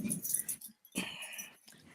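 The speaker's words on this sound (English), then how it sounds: "Wait, dog." A dog makes a couple of short, close vocal bursts, barks or whimpers, indoors in a quiet room, separated by a brief pause.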